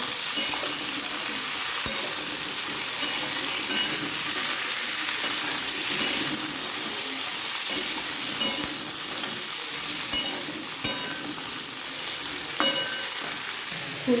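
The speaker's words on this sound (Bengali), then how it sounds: "হাই ফ্লেমে ভেজে দিলে কিছুক্ষণ ফুলকপিটা এমনি ভাজা ভাজা হয়ে যায়" Cauliflower frying on high flame with paneer nearby, a steady loud close sizzle with occasional soft clicks of stirring throughout, no voices.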